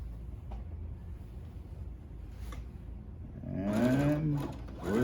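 A sewing machine stitching fabric starts after a few seconds of near quiet, a brief rapid whirring run close by, then a short second burst at the end.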